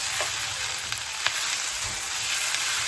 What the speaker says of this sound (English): I'm gonna give this a stir